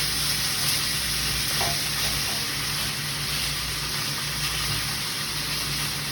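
Tater tot hotdish filling, browning meat, sizzles and fries steadily in a pan as it is stirred and broken up. The hiss is loud, close and continuous, with faint scraping.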